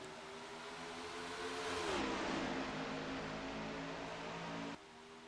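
Race cars in a stock-car racing video game at Texas roar through the green-flag restart, a loud, dense engine drone with one car's pitch sliding as it accelerates, no talk over it.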